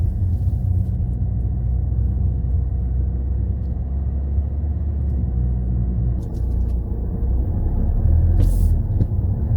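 A car climbs the drive-in ramp inside a multi-storey industrial building, its engine a steady low rumble that fills the whole stretch, with a brief hiss near the end and no talking.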